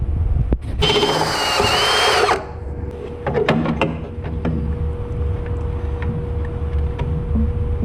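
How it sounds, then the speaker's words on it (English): A power drill bores a couple of holes to bolt on a fuel regulator in a project drag car, one loud sustained burst of whirring near the start, then quieter clanks and tool handling. "I'm gonna go ahead and drill a couple holes and bolt this regulator right here."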